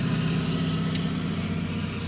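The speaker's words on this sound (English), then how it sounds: "Man, my truck sounds good." A Duramax diesel pickup truck engine idles steadily close by, a continuous low rumble with a constant mechanical hum throughout and no talking.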